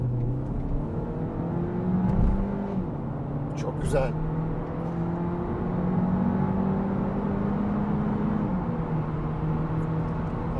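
A 2025 Cupra Leon 1.5 eTSI mild-hybrid with 150 PS and a DSG gearbox accelerates hard, its engine drone climbing steadily and stepping down at gear changes, loud and close inside the cabin, with a brief spoken comment.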